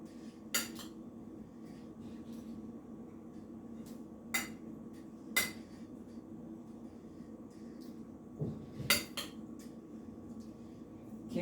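A utensil mixes chopped cheese sandwich filling in a pan, giving a handful of sharp, irregular clinks and scrapes against the metal over a quiet background with no talking.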